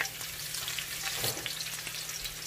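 Garlic and red onions sautéing in a pan, a quiet continuous sizzle with light crackles and a low steady hum underneath, no voices.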